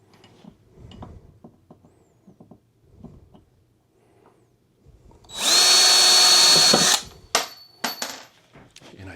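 A power drill drives a self-piloting screw into a wall for a guitar mount, a loud whirring burst of about a second and a half, followed by small clicks and handling noises with quiet gaps around it.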